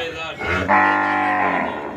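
A cow gives one loud, drawn-out moo close by, rising then holding steady for over a second.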